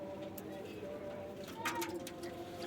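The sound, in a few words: pigeons cooing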